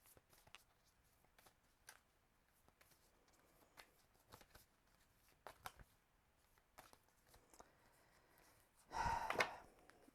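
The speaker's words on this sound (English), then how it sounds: "I'm flipping cards over for you." Tarot cards flipped and shuffled on a desk, soft scattered flicks and slides at close range, with a breathy exhale near the end.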